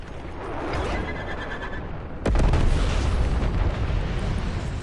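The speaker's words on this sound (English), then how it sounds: "Napalm strike requested on my mark" Napalm strike explosions in Black Ops 6: a sudden heavy boom lands about midway, opening into a loud, sustained roaring rumble that carries on to the end over steady background noise.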